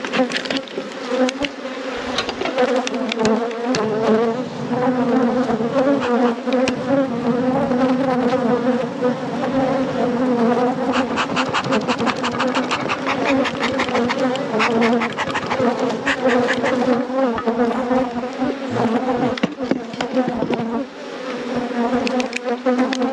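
Honey bees buzz in a loud, dense swarm around a hive busy bringing in nectar, with overlapping tones rising and falling close by and continuing without talk.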